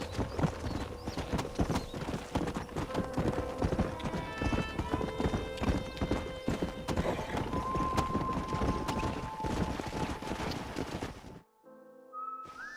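Horses' hooves clip-clop in quick, steady running beats in Red Dead Redemption on Xbox 360, close and busy, with whistles and a whinny mixed in before the hoofbeats stop abruptly near the end.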